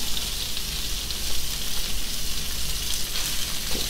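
Sausage browning in a single layer in a pan for a one-pan pasta dinner gives a steady, close sizzle with a soft crackle and no talking.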